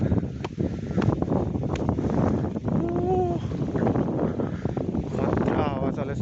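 Strong wind gusts buffet the microphone outdoors at Katuwal Daha, a loud, continuous rushing roar that never lets up, with people talking over it throughout.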